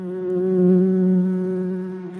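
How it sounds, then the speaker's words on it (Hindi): A bee buzzes steadily and close by, a continuous droning hum that swells slightly in the middle before easing off, with no other sounds. "बिन बिनाना भी एक तरीके की साउंड है जो मधुमक्खी प्रोड्यूस करती है"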